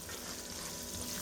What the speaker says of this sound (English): Our sausage is getting nicely browned up.